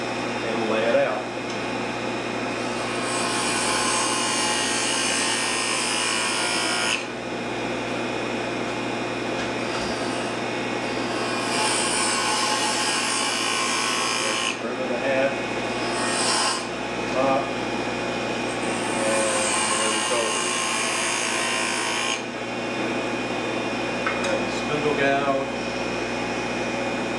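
A spindle gouge cuts a turned wooden figure on a spinning lathe, making a continuous rushing, scraping hiss over the motor's steady hum. Cuts start and stop in long stretches, and someone talks over the work at times.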